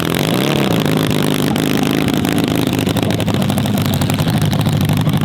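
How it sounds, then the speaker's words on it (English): The Hulk, a supercharged racing sled, revs in freezing conditions with a loud, continuous, dense engine roar that holds steady and pulses slightly as it builds. "The Hulk, the supercharged sled there from the Gibbous camp"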